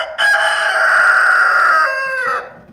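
A rooster crows once, loud and close, in a single drawn-out call among chickens settling onto a roosting bar at night.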